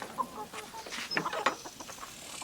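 Chickens, banded hens, clucking softly in a farmyard as feed is tossed to them, with several short near clucks and calls over a quiet background.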